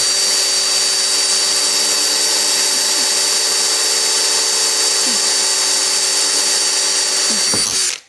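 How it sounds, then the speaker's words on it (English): A power drill whines steadily and loudly for about eight seconds, grinding through the metal body of a Cadillac CTS wagon without pause, then cuts off abruptly at the end. "I'm going to match drill"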